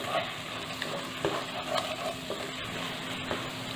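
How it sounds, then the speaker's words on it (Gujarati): Green chickpea curry frying in a pan being stirred, with a soft steady sizzle and light scraping of a spoon against the pan at intervals, close and fairly quiet. "હલાવી લેવું"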